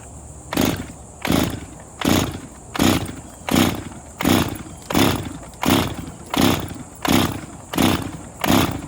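A Pioneer P26 chainsaw fitted with a new Husqvarna carburetor is pull-started with the choke out and no primer, giving about a dozen evenly spaced rasping cranking bursts, roughly one per second, loud and close, with no voices.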